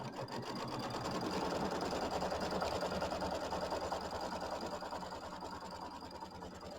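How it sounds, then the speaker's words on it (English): Steady, close whirring of a sewing machine tacking down batting on a Kimberbell Nativity bench pillow, a continuous rapid stitching drone running alone throughout. "And then we're going to tack down the batting."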